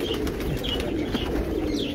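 Amritsar pigeons coo softly and continuously at close range, a low murmuring burble from several birds with no talk over it.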